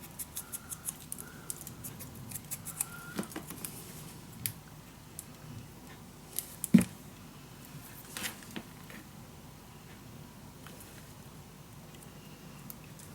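Scissors snip through paper for a winter-themed mini album in a suitcase, a series of short, quiet, close cuts spaced irregularly, with one louder snap near the middle.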